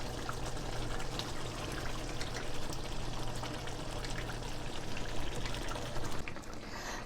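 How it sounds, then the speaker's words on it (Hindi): Whisked yogurt poured into a pot of softened cooking tomatoes on low heat for chicken biryani, a steady wet pouring and trickling sizzle that runs close and unbroken for several seconds with no talk. "और अब मैं इसके अंदर शामिल करूँगी ये 1 कप दही मैंने फेंट के रखा है"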